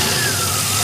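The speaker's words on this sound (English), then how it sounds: "I'm going to go ahead and blip the throttle again and see if it reacts the same way" A DeLorean engine runs loud and close with a steady mid-pitched drone and a slight rise in pitch as the throttle is blipped, a short burst of engine noise with no talking.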